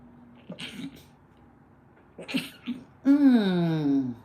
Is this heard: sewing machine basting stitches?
no